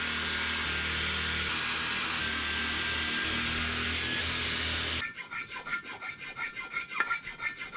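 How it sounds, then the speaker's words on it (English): A Miata engine part is hand-filed: a continuous harsh rasp for about five seconds, then quicker rhythmic back-and-forth file strokes, close and loud with no talking. "It's hard to quantify exactly how much filing this took."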